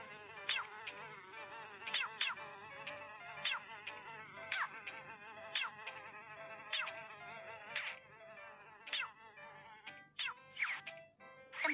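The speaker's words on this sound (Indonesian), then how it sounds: "Ada banyak sekali lalat. Ayo cepat kita singkirkan mereka." Cartoon flies buzz around a dirty bathroom in close, repeated whining bursts, each rising and falling in pitch, recurring roughly every second with no talking over them.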